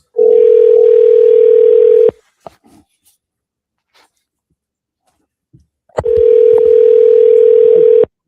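Telephone ringback tone during an outgoing call to a coach on a radio show: two long, loud steady rings about four seconds apart, with quiet clicks in the gap between them.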